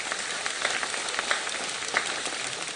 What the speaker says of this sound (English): Let's give a big round of applause to all our youngsters.